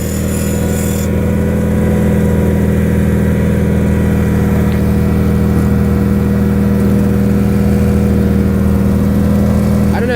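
Two John Deere lawn tractors, a 210 and a 316, running in a New Year's cold start, their engines droning steadily and loudly up close with a constant low rumble and no pauses.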